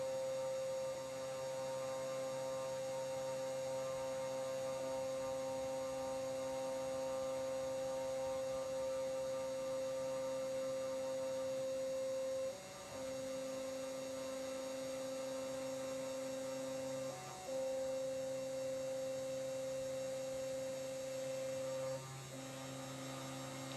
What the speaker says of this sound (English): So the spindle is spinning at 8000 RPM, which is controlled through the G-code